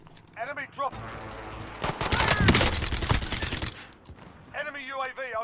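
Gunfire in Call of Duty Warzone: a dense burst of rapid automatic shots and impacts in the middle, with a player's voice talking before and after.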